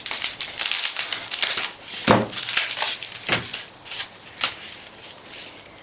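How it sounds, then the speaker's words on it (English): Grass stalks snipped for a floral design, a series of close, crisp cutting snaps with crinkly rustling of the stalks between cuts, several distinct clips spaced a second or so apart. "So my first cut is going to be my height."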